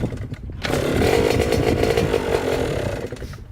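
A Yamaha YZ85 dirt bike fitted with an FMF shorty exhaust fires up after a short cranking sound and settles into a loud, raspy two-stroke idle close by.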